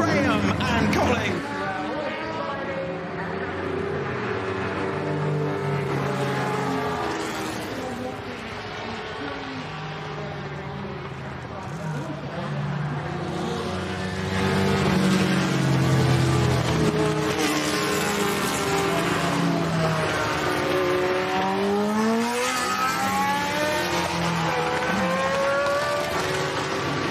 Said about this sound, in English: The Bentley of number seven and victory for Graham and Colling